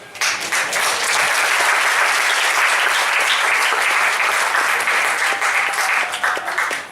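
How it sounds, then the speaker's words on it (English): An audience breaks into dense, continuous clapping that holds evenly for several seconds before tapering at the end. "Y'all can clap for that"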